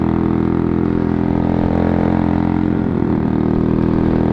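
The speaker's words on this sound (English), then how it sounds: "Is it me or is this bike fucking quieter?" An upgraded motorcycle engine runs steadily at idle, a loud close continuous rumble with a faint rise and fall in pitch partway through and no voices.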